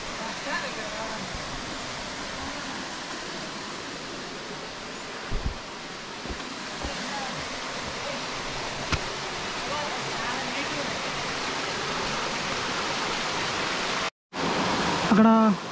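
A waterfall at Kolanbharthi near Kurnool rushes in a steady, even wash of water noise heard from a trekking trail. A few soft knocks sit under it before a brief cut near the end.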